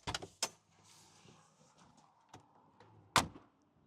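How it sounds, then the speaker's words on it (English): A convertible soft top closes on a blue Mercedes G500 Cabriolet, with a faint motor whir between sharp mechanical clicks and a loud latching clunk near the end, heard close and quiet. "Let's close the top and see what it looks like."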